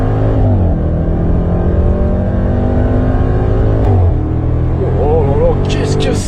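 A supercharged Range Rover Velar engine in dynamic mode, eight-speed gearbox in manual, pulls hard with a loud, close, rising roar, dips briefly at a gear change, then climbs again.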